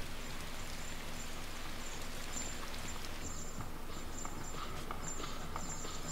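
Steady rain pattering on surfaces in the dark, moody video game Inside, a continuous wash of fine drops with scattered louder taps throughout, heard alone with no talk.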